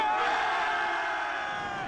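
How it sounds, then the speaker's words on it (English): A team of boys at the Halliwell Jones Stadium lets out a loud, sustained group cheer, many young voices shouting together close by and fading slightly at the end. "Right, boys. Should we have a cheer or what?"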